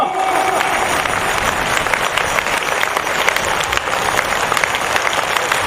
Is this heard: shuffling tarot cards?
no